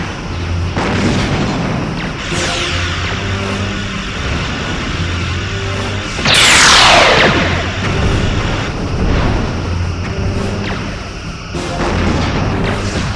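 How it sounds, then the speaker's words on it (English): Phaser fire and weapon blasts in the Star Trek Bridge Commander space combat game, with loud booming bursts over a constant engine hum and one long sweeping high zap in the middle. "Sweeping through phaser arcs."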